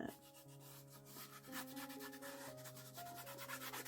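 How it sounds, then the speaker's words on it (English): A rag rubbed around a wooden box in steady swishing strokes, faint and close, under soft sustained background music. "I'm just going to rub this around on my box everywhere to tone the brown down a little bit."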